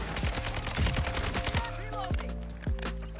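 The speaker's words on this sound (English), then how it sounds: "I'll just pop a shot or two off and see." Rapid bursts of Kastov 762 rifle fire in Modern Warfare 2, several sharp loud shots in quick succession with echoing tails over game ambience.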